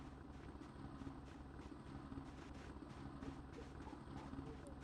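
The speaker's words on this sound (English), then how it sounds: "the last time we heard that helicopter, they shot at us" A helicopter in the video game Project Zomboid gives a faint, steady low rotor thrum that holds evenly throughout, with no distinct voices.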